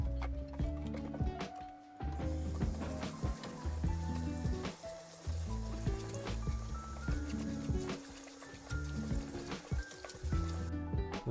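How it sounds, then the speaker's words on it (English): Water pours and splashes over salted napa cabbage leaves as the salt is rinsed off, a steady running wash with brief pauses near the start and end. "Once the leaves had their 30 minutes, wash off the salt"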